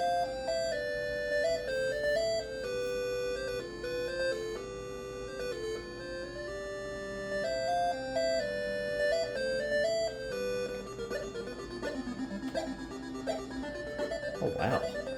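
A Tandy 1000 SX computer plays a multi-voice chiptune demo melody, steady and loud throughout, with bright square-wave tones stepping through a tune over a buzzy bass line.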